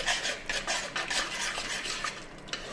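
A spoon stirs curry powder through a pork and pineapple sauce in a pan, giving continuous close scraping and swishing with light clinks and a faint simmering sizzle.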